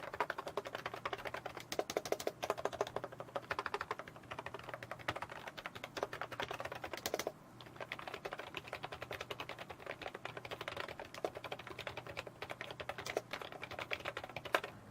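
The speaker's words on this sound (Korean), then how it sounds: "먼저 큐센 SEM-DT45 멤브레인 키보드 소리입니다" Typing on a Qsenn SEM-DT45 membrane keyboard: a dense, continuous run of soft, rapid keystrokes with one short pause midway, close and steady, with no voices.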